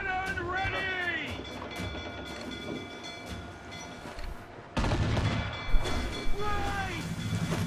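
Ship cannons fire during a naval battle in the video game Assassin's Creed IV. A sudden loud blast is followed by a couple of sharper booms, set against a busy din of wind, water and shouting crew voices.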